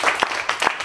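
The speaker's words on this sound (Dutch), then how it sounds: "En nog een applaus voor Kees Donkers." Brief applause from a seated audience at a talk on innovative housing, dense clapping with a few sharper individual claps standing out, close and fairly loud.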